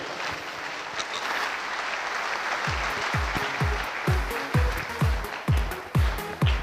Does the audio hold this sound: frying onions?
no